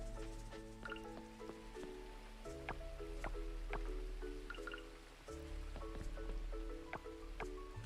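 Rain falls in the farming video game Coral Island, a steady soft hiss with scattered drip-like ticks, running under gentle melodic game music.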